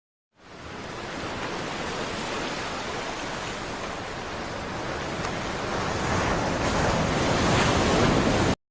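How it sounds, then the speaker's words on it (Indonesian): Ocean waves crash and surge in a steady, loud roar that builds slightly toward the end, with no voices over it. "Dan seketika rombongan Firaun dihancurkan oleh gelombang laut yang menutupi mereka."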